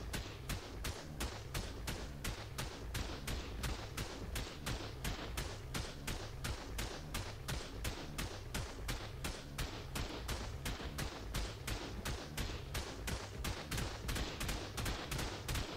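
Standard bullets fire nonstop at a tech stegosaurus during a mock base raid in the game ARK, a loud, rapid automatic rattle with evenly spaced shots that continues the whole time.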